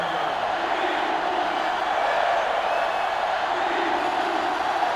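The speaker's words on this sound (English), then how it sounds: "This crowd is almost shaking the stadium." A college football video game stadium crowd roars in a steady, loud, dense wash of cheering that keeps up for several seconds without a break.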